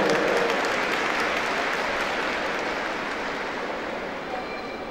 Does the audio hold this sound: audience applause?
yes